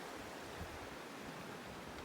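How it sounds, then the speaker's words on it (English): Rushing creek water in a mountain valley, a steady, dense, broadband roar of flowing water with no breaks, moderately close, without voices. "This creek never ever calms down."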